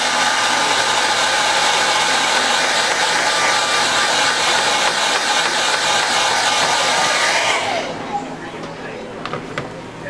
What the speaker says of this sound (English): Use your dryer to hold.